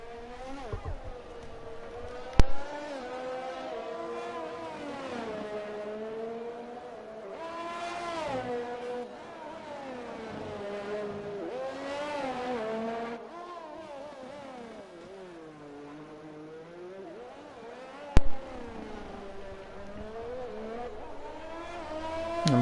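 A pack of Formula 1 race cars in an F1 video game at Monaco rev and whine at high pitch, engines rising and falling together through gear changes, with two sharp thumps along the way.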